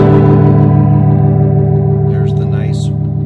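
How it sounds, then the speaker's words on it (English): Sustained electric guitar chord through a converted Leslie Model 101 rotating speaker with a clean boost preamp, carrying a warbly, swirling modulation, loud and close, with a brief breathy noise near the end. "there's the nice warbly sound"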